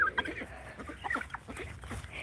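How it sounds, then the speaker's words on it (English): Chickens on a farm give a few short, high clucks and squawks at close range, scattered irregularly over a quiet outdoor background with no talking. "The chickens are here."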